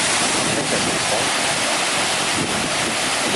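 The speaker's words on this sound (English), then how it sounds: "Beautiful set of falls on the portage around this Gallipo River." A set of low-water falls beside a portage on the Gallipo River in Algonquin Park gives off a loud, steady broadband rush of water that continues unbroken throughout, with no voices over it.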